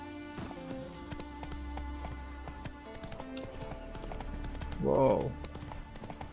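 Roach the horse trots along in The Witcher 3 with steady clip-clopping hooves and a brief snort, heard under someone talking.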